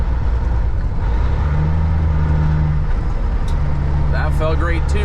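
A Freightliner FLD120 truck with a remanufactured transmission downshifts while driving, the loud cab engine drone dipping and then settling into a new pitch, with a voice speaking briefly near the end.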